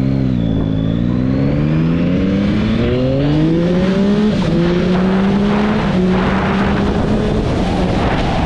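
A dirt bike accelerates hard in first gear, its loud engine note climbing steadily in pitch, heard up close with wind noise and no talking.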